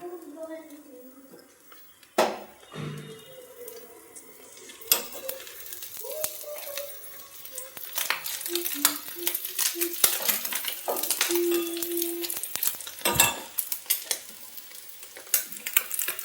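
Beaten eggs mixed with pepper, coriander leaves and curry leaves fry in an oiled pan, starting as a faint sizzle with spatula clicks and a few clanks, then growing into a louder, steady crackle, with a voice faintly in the background.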